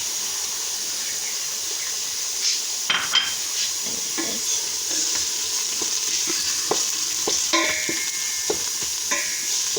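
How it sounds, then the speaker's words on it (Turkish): Red meat sautéing in a pan for a Turkish chickpea and meat stew, a continuous sizzle with scattered scrapes and clinks of a utensil stirring against the pan, no talk. "Şimdi hemen kırmızı etlerimizi üzerine ilave edeceğiz. Güzelce onunla birlikte soteleyeceğiz."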